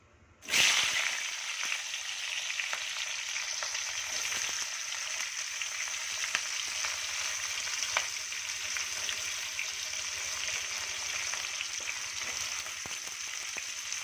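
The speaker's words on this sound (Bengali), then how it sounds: "সেই তেলের মধ্যেই আমি পেঁয়াজটাকে দিয়ে দেব।" Onions drop into hot oil left from frying chicken for chilli chicken, and a loud sudden sizzle bursts out, then settles into a steady, even hiss that carries on for over ten seconds, with occasional faint clicks.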